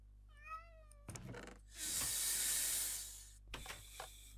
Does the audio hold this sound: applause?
no